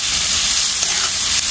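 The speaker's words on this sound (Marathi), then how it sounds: "हा कांदा छान मऊ होईपर्यंत आपण परतणार आहे." Onion and carrot sautéing with salt in a pan give a steady, close, loud sizzle with a constant hiss and no voices.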